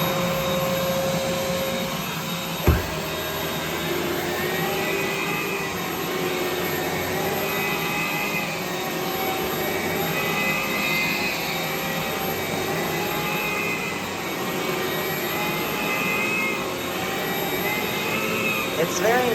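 An Aerus Lux Guardian vacuum cleaner runs continuously at steady loudness, with a brief knock early on and faint voices now and then in the background.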